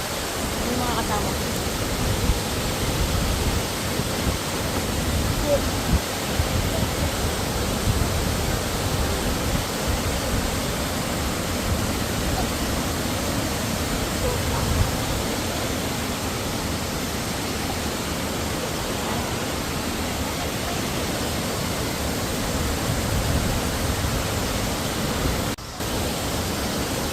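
Hulugan Falls waterfall, a dense, unbroken hiss and roar of falling water that stays loud and steady throughout, heard close to the cascade.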